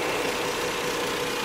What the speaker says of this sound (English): So as you can hear, the engine is very quiet.